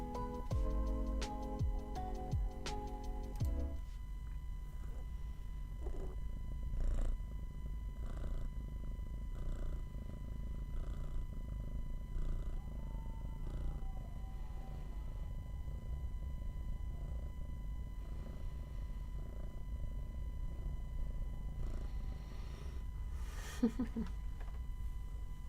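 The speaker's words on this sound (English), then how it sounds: "She's purring, by the way." A contented pet cat purring, a low steady rumble held close and continuous throughout, with occasional soft clicks and a brief tone near the start.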